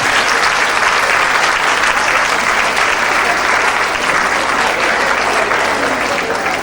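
A conference audience at a midwifery gathering claps together in a loud, steady, unbroken roar of many hands, filling the hall for nearly seven seconds without a pause.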